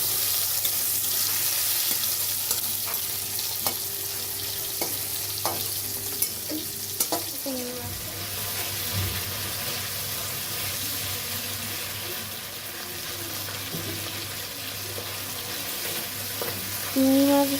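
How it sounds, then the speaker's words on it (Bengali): Shrimp frying in a pan makes a steady, close sizzle that runs throughout, with occasional clinks and scrapes of stirring over the constant crackle. "মাছগুলোকে দিয়ে দেবো ভাজার জন্য।"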